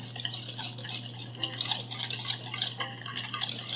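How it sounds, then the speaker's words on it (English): A whisk stirs almond flour, cornstarch and sugar together in a bowl, making a continuous, close scraping and swishing with small clinks against the bowl over a steady low hum, no talking. "Then we're gonna combine them with the whisk."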